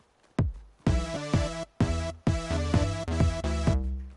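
Short bright plucked Fortnite music-block melody, about eight quick bell-like notes in a bouncy rhythm, clear and alone.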